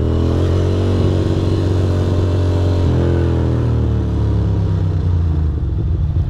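A Ducati Monster 620 motorcycle engine drones loudly and continuously while riding, with a steady low rumble that shifts pitch slightly partway through and no speech.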